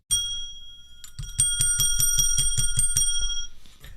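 A bicycle-style bell rings loudly and close, first one long ring, then a rapid run of about nine quick repeated dings that fade out.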